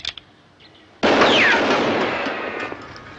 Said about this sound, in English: You can shoot from the hip.